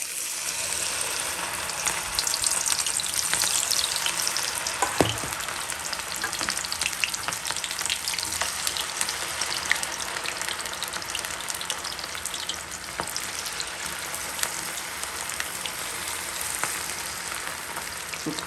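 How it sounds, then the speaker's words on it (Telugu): Gobi 65 cauliflower pieces fry in hot oil with a steady, dense sizzle and crackle that holds for the whole stretch, with an occasional stir or spatter popping through. No one speaks. "సో కలర్ వచ్చేంత వరకు మీరు ఫ్రై చేసుకోండి."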